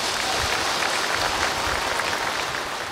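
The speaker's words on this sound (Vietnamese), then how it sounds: "Quý vị tự vỗ tay chúc mừng mình." An audience applauds in a dense, sustained clatter of clapping that holds steady throughout, fairly close and loud, with no voices over it.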